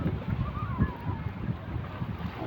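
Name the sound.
strong wind at the seafront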